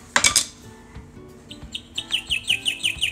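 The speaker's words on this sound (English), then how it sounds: "It's a bird. It's the birds." A Disney Little People princess singing castle toy plays electronic bird chirps, a quick run of bright, rhythmic tweets after a clatter of plastic handling nearby.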